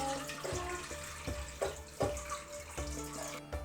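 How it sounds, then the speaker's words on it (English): Liquid with dissolved honey is poured into a mixing bowl, a close, faint splashing trickle with irregular gurgles and small clinks. "Now, let's go ahead and pour this in here."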